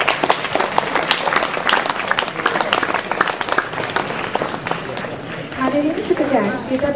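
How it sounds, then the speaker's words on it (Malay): Applause for the school cooperative at a Malaysian school cooperative day event, a dense crowd clapping that fades toward the end as a voice starts speaking over the hall. "tepukan untuk pihak koperasi sekolah"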